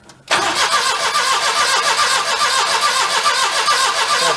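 A worn Daihatsu mini truck with a blown engine fires up on choke after a brief crank, then settles into a loud, steady, even running note close by.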